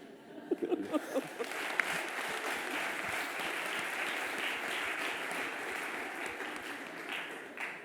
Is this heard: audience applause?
yes